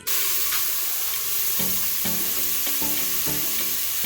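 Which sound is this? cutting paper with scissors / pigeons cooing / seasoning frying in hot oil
seasoning frying in hot oil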